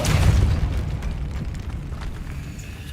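In Hogwarts Legacy, a Depulso spell blast lands as a loud, booming burst with a rumbling tail that slowly decays over a few seconds.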